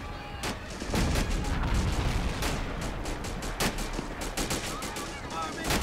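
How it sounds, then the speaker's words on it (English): Heavy World War II battle sounds from a game pitting American forces against the Axis: dense machine-gun fire and sharp shots crack continuously with booming artillery mixed in, loud and close, while a player talks underneath. "He's shooting everything at me."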